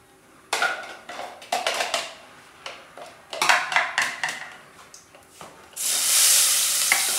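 Spices crackle and sizzle in hot ghee in bursts, with stirring and clinks of a pan, ending in a steady loud hiss.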